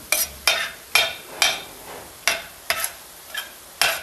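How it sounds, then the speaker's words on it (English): Ramen noodles stirred in a frying pan with a splash of water: about eight sharp, evenly spaced scraping strokes roughly every half second over a faint sizzle, close and alone. "Stir it up just a little bit of water."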